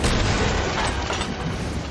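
Ship cannon fire in the pirate video game Sea of Thieves, a dense, loud booming rumble that fills the whole moment with blast noise and no clear gaps, and no talking.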